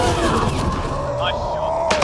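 Gunfire in the sci-fi shooter Mass Effect: Andromeda on the desert world Elaaden, a dense burst of shots and booms against scavenger constructs, thick and continuous, with a sharp crack near the end and voices talking over the fighting.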